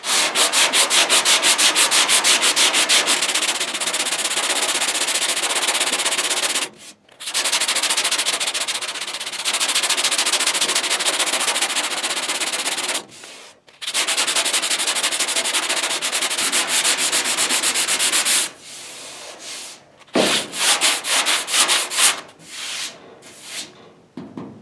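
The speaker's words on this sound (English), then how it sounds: "So I'll sand this down through here" Body filler on a Mustang fender being sanded by hand in long, steady raspy strokes. Several continuous passes are broken by brief pauses, and the last few strokes are shorter and choppier.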